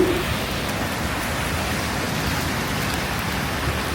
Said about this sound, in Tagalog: It's raining. Kasi paparating na yung bagyo. I'm walking in the rain.